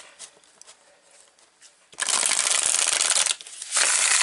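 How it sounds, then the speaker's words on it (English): Quiet handling of cards gives way to two loud bursts of riffle shuffling, a dense fluttering rush up close. "it doesn't shuffle bad"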